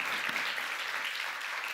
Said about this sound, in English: if I may ask the audience for a round of applause for that leadership